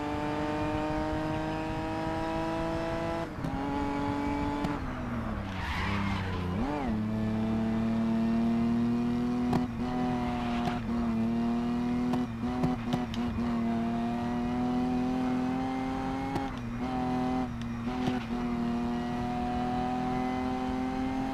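Race car engines on a track in the video game GRID Legends drone loudly and steadily, with swelling passes and gear-shift dips along a long straight toward the finish, someone talking over them at times.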